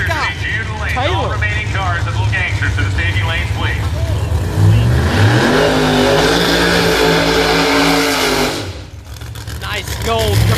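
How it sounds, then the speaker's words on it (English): A black Camaro at a Promod drag racing event does a big burnout, its engine revving hard and climbing in pitch before cutting off, loud and close with people talking over it. "Big burnout from the black one"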